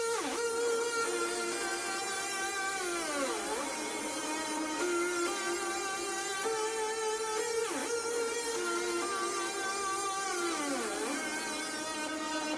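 A synth top-lead line played with chorus and heavy reverb in a remix, sustained tones gliding and bending between notes, soft and washy over a steady bed, carrying alone without voices.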